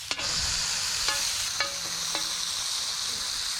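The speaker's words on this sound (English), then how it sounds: "pieces of the thick cut bacon. Just going to go ahead and get that started in our pan." Thick cut bacon frying in a pan outdoors, a steady close sizzle and crackle with a few sharp clicks of a utensil against the pan and no one talking.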